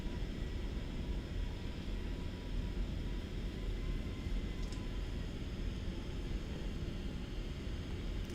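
A Boeing 737 rolling out after landing in MSFS 2024, a low steady engine and rolling rumble with a constant faint whine, continuous and even, no voices.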